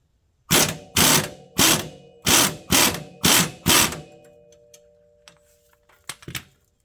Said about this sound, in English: as I start to jack it up